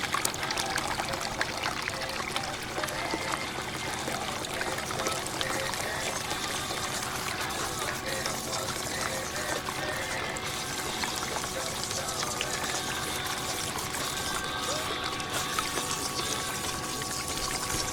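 Water pours steadily, with dish soap added, into a gold-separating bucket at a drywasher dig site. The rushing trickle runs continuously at moderate volume.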